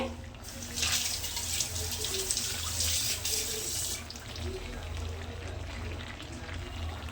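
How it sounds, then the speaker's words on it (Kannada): Water pours in a steady hissing stream into a pan of fried pepper chicken, louder for the first few seconds and then continuing more softly until the end. "ಇದಕ್ಕೊಂದು ಸ್ವಲ್ಪ ನೀರು ಹಾಕ್ಕೊತೀನಿ."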